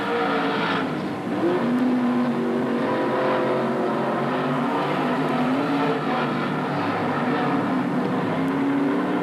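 Race cars lap Magic City Speedway during a heat race, engines droning and rising in pitch as they pass in a continuous loud roar from mid-distance, with no talking.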